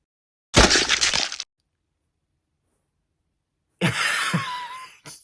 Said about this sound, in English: when you look up blood splatter sound effect, that's just what they used